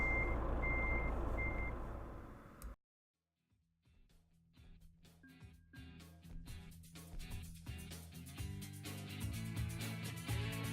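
A truck in Euro Truck Simulator backs up with a trailer, its reversing alarm giving three evenly spaced beeps over a loud engine rumble before the sound cuts out, followed by quieter clattering and rumbling.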